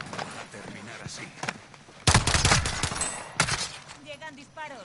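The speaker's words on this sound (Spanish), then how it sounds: "Llegan disparos. ¡Me están disparando!" Bursts of automatic gunfire in the video game Warzone: a loud, dense volley erupts mid-clip and another follows shortly after, over lighter shooting and game sounds.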